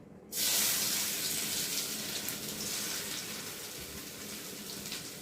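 Chopped onions fry in hot oil in a home kitchen, starting suddenly with a loud, steady sizzling hiss that carries on and eases slightly, with no talking.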